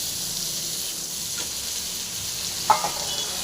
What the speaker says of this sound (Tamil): இந்த தக்காளி நல்லா மசி வர அளவுக்கு நல்லா ஃப்ரை பண்ணிக்கலாம்